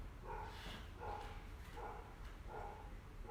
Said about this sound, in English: Probably hear my dog barking outside here.